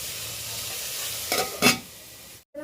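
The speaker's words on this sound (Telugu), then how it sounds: "ఈ ఉల్లిగడ్డలన్నీ బాగా ఉడకాలి నూనెలో." Onions and green chillies fry in oil with a constant close sizzle, broken by two louder scraping stir strokes near the middle before a brief cutoff at the end.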